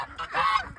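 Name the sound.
geese honking on a farm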